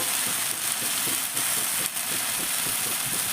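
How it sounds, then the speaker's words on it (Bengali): Lentil paste frying in oil on a flat pan over high flame, a steady loud broadband sizzle running throughout without pause, close and unaccompanied by speech. "চাটুতে একটু তেল দিয়ে দিয়েছি। এবার যে ডাল বাটাটা ছিল, ডাল বাটাটা আমি এটার মধ্যে দিয়ে দিলাম।"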